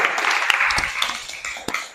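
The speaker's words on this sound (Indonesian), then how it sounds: "Oke, tepuk tangan dulu semua." A group claps together at the close of a teachers' presentation session, with sharp individual claps over a busy patter that thins and fades toward the end.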